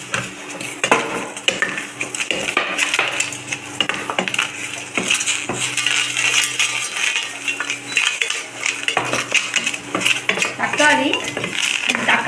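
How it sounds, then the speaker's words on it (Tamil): Onions and tomatoes sautéing in a pan are stirred with a metal utensil, giving repeated loud scrapes and clinks against the pan over a soft sizzle, close and steady throughout with no talking. "கொஞ்சம் நல்லா வதக்கிட்டு இப்போ இதில் வந்து வெங்காயத்தை கொஞ்சம் வதக்கிட்டு தக்காளி"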